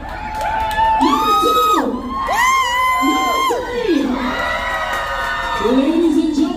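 An audience on a cruise ship near Freeport, Bahamas screams and cheers for a contestant, a loud, close swell of whoops and high shouted voices in overlapping bursts.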